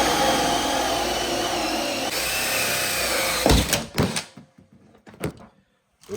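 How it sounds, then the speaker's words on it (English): A power drill whirs continuously, drilling out a hole, then stops, followed by a few sharp knocks and clatters as tools are handled in a quiet room. "Let's get that drilled out."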